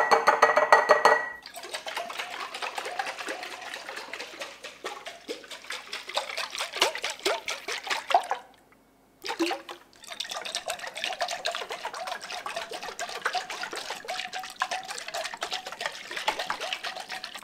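Olive oil and freshly squeezed grapefruit juice slosh and splash inside a container being shaken, a steady close liquid churning with a brief pause midway.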